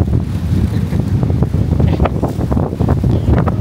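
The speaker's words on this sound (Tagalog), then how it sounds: "Tinatangay ako ng hangin" Strong wind buffets the microphone in a steady, loud roar with gusty bursts, and a faint wash of surf behind it, on the Sydney waterfront.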